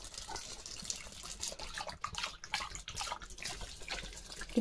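A household tap runs steadily while a child sits in the water, giving a continuous broadband rush with small splashy fluctuations throughout and no voices.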